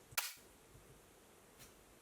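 A snare hit made from struck cardboard sounds as a single sharp, bright crack that is gated and cuts off abruptly. It is faint and alone, followed by low background hiss.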